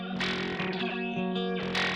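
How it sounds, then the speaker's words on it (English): A sustained, distorted electric guitar chord run through a phaser-flanger plugin in flanger mode, with a sweeping, whooshing effect that swirls up and down, loud and continuous. "So I used the phaser flanger plugin in flanger mode."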